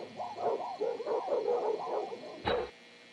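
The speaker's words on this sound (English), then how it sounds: "We hear dogs barking in the background before the lights go out" Dogs bark and howl in rapid overlapping calls at a dog sanctuary in security footage, a moderately loud chorus ending with a sharp burst.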